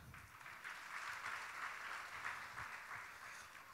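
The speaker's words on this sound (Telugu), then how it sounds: "let's give a clap" A sermon audience claps together in a large hall, a steady wash of many hands sustained for several seconds at moderate level, with no voices over it.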